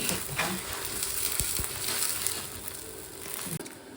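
Msemen, a Moroccan flatbread, frying in oil in a pan, with a constant close sizzle and a few soft knocks as it is handled and turned.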